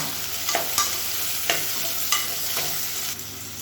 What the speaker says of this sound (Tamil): இப்போ வெங்காயம் ஓரளவுக்கு வதங்கிடுச்சு.